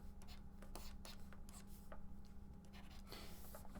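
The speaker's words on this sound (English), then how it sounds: "my stylus scratching on the computer" A stylus scratches and rubs across a computer drawing tablet while an animal figure is sketched, a quiet steady rasp broken by short strokes, close and alone.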